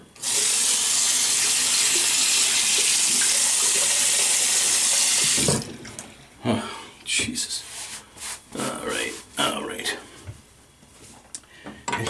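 Tap water runs steadily from a faucet to wet a razor before shaving, a loud continuous hiss for about five seconds that cuts off, followed by quieter handling noises and someone talking.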